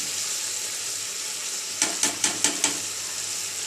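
Garlic, ginger and chili fry in oil with a steady close hiss, then five quick evenly spaced taps or scrapes of a utensil against the pan cut through the sizzle.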